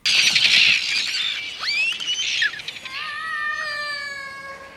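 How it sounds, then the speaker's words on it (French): Terns squawking as they circle overhead, used as sound design for the animated film The Red Turtle: loud, shrill, harsh calls crowd together at first, then give way to longer tonal cries with no voices. "c'est les sternes qui piaillent, oiseaux, qui tournent"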